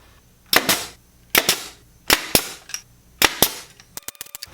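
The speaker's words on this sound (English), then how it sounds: "Sit it up on its side so that I can shoot some nails into it." Pneumatic nail gun driving nails into a wooden pipe clamp vise part: four loud, sharp shots spaced about a second apart, each followed by a short reverberant tail, then a quick burst of smaller clicks.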